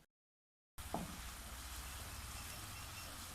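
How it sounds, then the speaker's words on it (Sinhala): Sugar stirred in a pan over heat until syrupy for carrot toffee, a soft steady sizzle with faint scraping, close and quiet, starting after a brief silence. "දැන් මේ සීනි ටික හොඳට පැණි ගතිය වෙනකල් කලවම් කරමින් ඉන්න ඕනේ."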